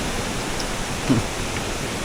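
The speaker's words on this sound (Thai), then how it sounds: "ความสวยสดงดงามของตาดกงเนาะของน้ำต้นนี่แหละ น้ำตกตาดกงทุกคน" Tat Kong waterfall in the rainy season gives a steady, even rush of falling water, a dense broadband hiss with no break and no voices.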